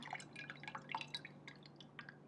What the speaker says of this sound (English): I'm going to pour my lye in,